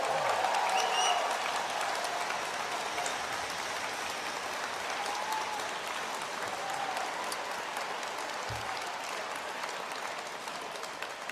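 A large room full of people breaks into warm, sustained applause at an evening gathering of MPs, staffers and volunteers, a dense steady wash of clapping that holds at an even level throughout.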